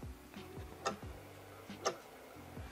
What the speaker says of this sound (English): you've got a really nice like sort of background clock